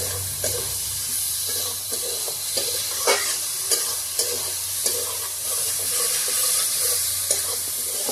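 Egg frying in oil in a pan for a Bengali egg paneer dish, a steady bright sizzle broken by regular soft taps and stirring clicks, close and even.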